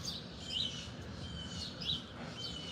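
Small birds chirp faintly in the early morning after sunrise, giving a few scattered high tweets over a low, steady background rumble.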